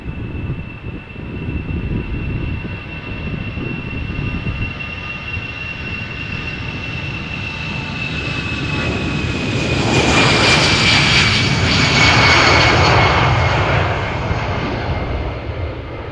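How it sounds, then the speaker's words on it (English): An Air France Airbus A319-100 jet spooling up its engines, a loud continuous roar with a rising whine that builds and intensifies toward the end, heard alone and close. "Spooling up right now. Airbus A319-100."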